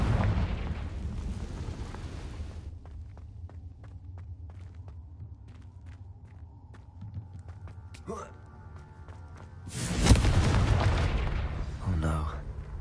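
Confringo fire spell explosions in the video game Hogwarts Legacy: a loud, broad blast at the start, a quieter rumbling stretch with small crackles, then a second heavy burst near the end.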